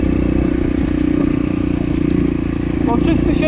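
A Yamaha TTR 125L enduro motorcycle idles nearby in a village with a steady, low engine rumble and some rattling clatter, running continuously under the rider's talking.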